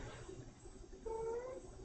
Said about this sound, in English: He's gonna meow all my stream, I guess, today.